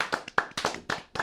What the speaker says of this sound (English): We should clap it up for Pat one time.